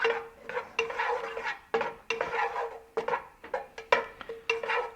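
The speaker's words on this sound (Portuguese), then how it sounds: "Vamos dar uma fritadinha no alho aqui" Utensil clinks and scrapes in a pan while garlic starts frying for a cacio e pepe risotto: a busy series of close metallic knocks and stirring strokes, with no talking.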